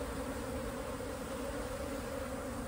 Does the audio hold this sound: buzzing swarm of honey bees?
yes